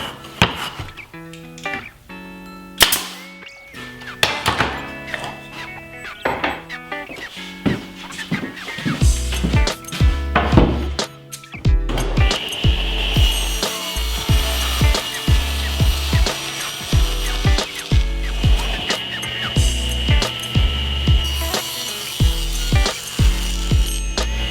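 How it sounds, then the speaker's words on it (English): A pneumatic nail gun drives 5/8 inch nails into wooden picture frame pieces, firing a series of sharp, loud, close shots at an irregular pace amid workshop handling noises. "I'll use a little wood glue and 5/8 inch long nails in the nail gun."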